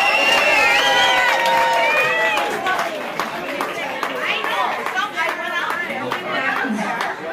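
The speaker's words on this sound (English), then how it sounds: "Give her a round of applause." Lively crowd at a radio birthday bash party breaks into cheering and scattered clapping, with whoops and excited overlapping voices over a busy room, the clapping thinning into chatter.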